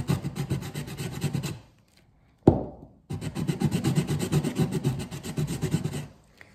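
Edges of resin coasters being sanded by hand, making close rhythmic rasping strokes in two bursts separated by a short pause with a single sharp knock.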